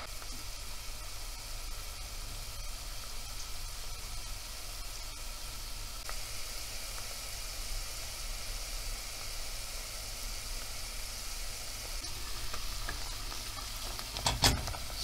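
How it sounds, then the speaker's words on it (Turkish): Chopped onions sauté in oil with a spoonful of butter in a pot, giving a steady, even sizzle throughout with light stirring clatter near the end. "Şimdi soğanlarımızı biraz soteleyelim."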